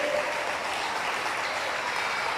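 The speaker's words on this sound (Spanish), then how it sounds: "Dele fuerte las palmas al Señor." A church congregation claps hands to the Lord, a continuous, even wash of many hands at moderate level, sustained throughout with no speech on top.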